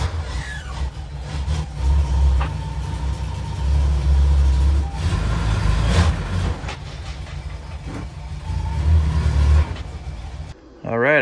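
A vintage M37 military truck with its original Dodge flathead straight-six engine runs steadily with a deep low rumble, occasional clanks and mechanical noise over it, cutting off abruptly near the end.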